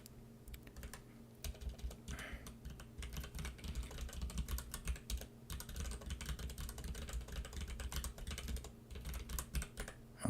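Steady computer keyboard typing while code is written live, a dense run of quick key clicks lasting throughout, close and fairly quiet, with no speech over it.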